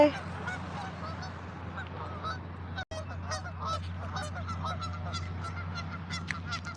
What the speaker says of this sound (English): Oscar's scared of the geese.